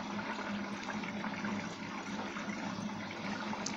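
An Arçelik washing machine fills with water, a steady rushing hiss with a low hum beneath it that continues evenly throughout.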